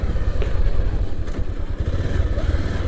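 A Bajaj Pulsar 220F motorcycle rides along with a low, throbbing engine rumble and some clatter, steady and close throughout with no talk.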